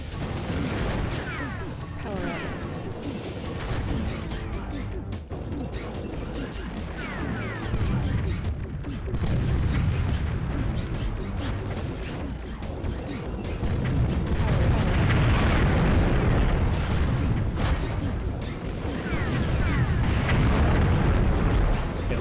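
Heavy gunfire and explosions in the BattleTanx video game: a dense, continuous barrage of booms and crashes that swells louder in the second half, with a voice talking over parts of it.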